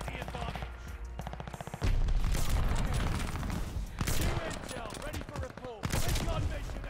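Rapid gunfire crackles in an online Call of Duty Vanguard match, loud bursts of automatic shots broken by brief pauses, with a player's voice talking in between.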